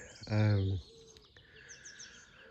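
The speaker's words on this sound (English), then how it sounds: "Beautiful day, bird song." Faint high bird chirps twitter in the distance after a short, low, droning voice-like sound near the start.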